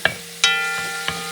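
Onions sauté in a pan for Puerto Rican shrimp soup, a soft steady sizzle broken by a few sharp utensil taps and scrapes, close and alone.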